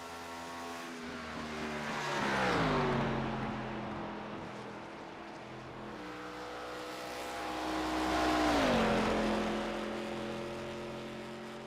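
An ARCA race car screams past at Pocono in a racing game, engine tone swelling and dropping in pitch as it passes, followed by a second car's rising and falling whine.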